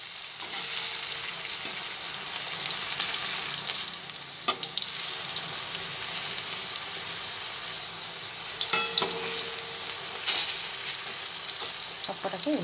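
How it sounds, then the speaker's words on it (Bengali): Fritters of ground masoor lentil paste and drumstick leaves fry in hot oil, giving a steady close sizzle with occasional scrapes and clinks as they are stirred and turned. "এরপরে 3-4 মিনিট মতো ভাজা হয়ে গেছে, তাই জন্য এবার দেখে সব কটাকে উল্টে দিচ্ছি।"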